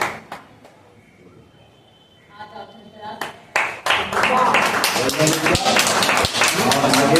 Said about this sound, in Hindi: आपको तालियां बजाइए